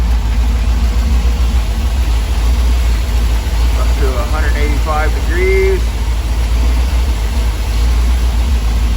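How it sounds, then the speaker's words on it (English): A Chrysler 440 V8 engine idles steadily through its exhaust with a low, continuous rumble while someone speaks briefly over it. "Exhaust system doesn't sound too bad."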